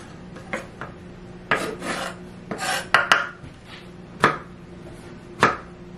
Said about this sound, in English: I make my slice first, and then I cut the skin off that slice.